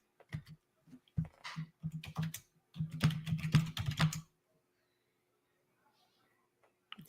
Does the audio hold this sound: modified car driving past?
no